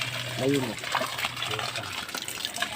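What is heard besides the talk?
manual hand pump drawing water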